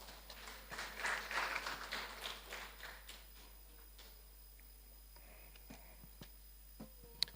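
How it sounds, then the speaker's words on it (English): An audience at a prize-giving ceremony applauds Miss Michelle Garcia, a brief round of clapping that swells and then thins to a few scattered claps before fading into quiet room noise. "Let's give Miss Michelle Garcia a round of applause"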